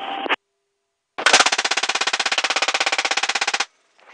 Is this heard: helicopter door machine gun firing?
yes